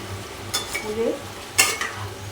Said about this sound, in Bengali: তলা উপর ভালো করে মিশিয়ে নেব।